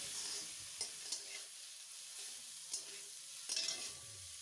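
Winter melon filling with mustard paste being stir-fried in a pan, a steady quiet sizzle with a handful of sharp spatula scrapes and clicks spread through it, no talking.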